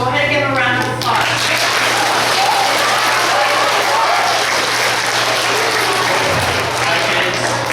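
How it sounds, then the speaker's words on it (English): An audience applauds guests at a children's event, a dense, steady wash of clapping that starts after a brief spoken phrase and continues evenly, with a low steady hum underneath. "Go ahead and give them a round of applause."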